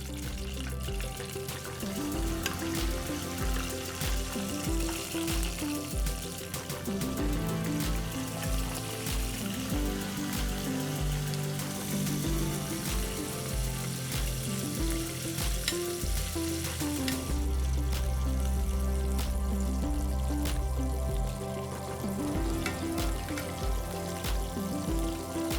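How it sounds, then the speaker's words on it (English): Shrimp set one at a time into hot oil for spicy fried shrimp tacos sizzle and crackle loudly and continuously, a dense bubbling fry with occasional pops and spatters lasting the whole stretch. "add them in one at a time. Make sure you don't drop them in, you set them in. Splattering oil is no fun"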